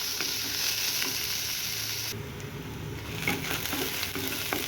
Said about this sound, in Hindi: इसको गोल्डन ब्राउन होने तक भूनेंगे।